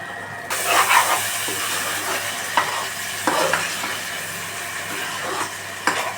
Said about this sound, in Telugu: అల్లం వెల్లుల్లి పేస్ట్ అనేది పచ్చివాసన పోయేంత వరకు అలా తిప్పుకున్నామండి.